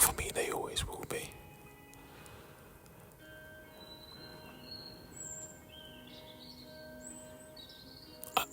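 Several birds chirp and trill in short, scattered calls at a moderate distance over a steady background hum, following a brief burst of close noise at the start.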